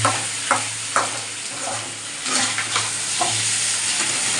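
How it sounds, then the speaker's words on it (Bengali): Chopped onion, garlic, ginger, potato and beans fry together in hot oil, a steady close sizzle broken by several scraping stirs of a spatula, with no talking. "এগুলো সব এই দেখো একসঙ্গেই ভাজা ভাজা হচ্ছে সব এই দেখো পেঁয়াজ রসুন আদার কুচি রসুনের কুচি আলু বিনস"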